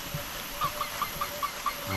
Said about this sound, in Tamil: எவ்வளோ பக்கத்தில் உட்காந்துருக்கு பாரு கோழி.